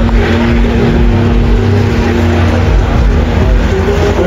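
A Zhiguli engine revs hard and continuously at a burnout challenge, a loud sustained roar with steady high-load drone and no pauses.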